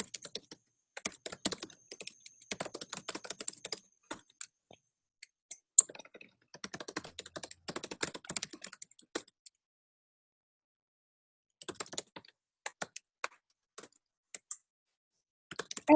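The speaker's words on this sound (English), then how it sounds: "As I see people typing and entering in the chat where you're from" Clear clicking keystrokes on computer keyboards at a video call meeting come in scattered bursts separated by silent gaps, close and crisp, with no one talking.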